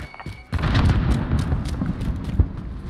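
A grenade blast in a video game bursts with a sharp boom, followed by rumbling debris and scattered pops and crackles that fade over a few seconds, with another thump near the end.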